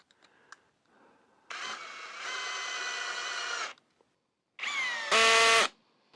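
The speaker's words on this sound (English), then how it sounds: "Let's try it high speed with the 20 volt Hyper Tough." Hyper Tough 20 volt cordless drill whirring at high speed in two loud bursts, the second rising into a sharper, higher-pitched whine, with brief pauses and small clicks between.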